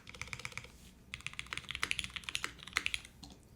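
A gasket-mounted mechanical keyboard with an aluminum plate, no foam and Cherry stabilizers is typed on up close, giving a run of sharp, clacky keystrokes that speeds into a rapid, uneven patter, fairly quiet with no voices.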